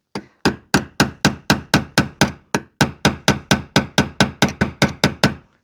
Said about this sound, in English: I've got a cold chisel and here my hammer, and then I'm just going to sort of start tapping away